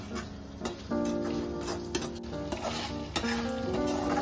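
Chicken with mustard paste and curry leaves sizzles in a pan while being stirred, a steady frying hiss with occasional clinks and scrapes of the spoon against the pan, close and continuous.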